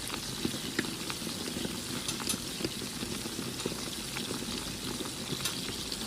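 Chicken wings simmering in sauce in a pan, giving a steady, even bubbling and sizzling that holds at a moderate level throughout, with no voices.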